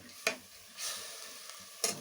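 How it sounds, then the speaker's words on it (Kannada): Sprouted horse gram masala fries in a pan under a steady low sizzle, with three brief scraping stirs near the start, middle and end; no voices. "ಒಂದೆರಡು ನಿಮಿಷ ಹೀಗೇನೆ ಇದರಲ್ಲಿ ಫ್ರೈ ಆಗಲಿ."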